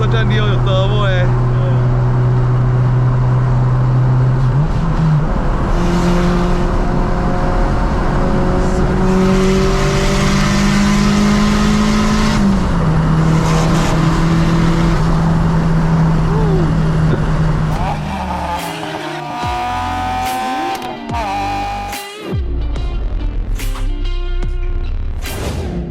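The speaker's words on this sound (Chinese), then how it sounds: "这个是 Satra Neo 哎，Hello Satra Neo 有turbo哎。" Proton Satria Neo fitted with a swapped 4G63 turbo engine from an Evo 5 drives uphill on a mountain road, its engine revving and droning loudly through several gear changes, then quieter, choppier engine noise with sharp bursts near the end; a voice talks over it.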